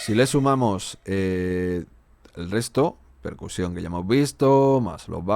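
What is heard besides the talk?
No everyday noise stands out behind the speech.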